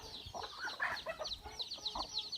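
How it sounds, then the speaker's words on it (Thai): Chickens on a rural farm near a rice field cluck and chatter in quick, overlapping bursts, fairly close and moderately loud, with no talking. "เป็ดไก่"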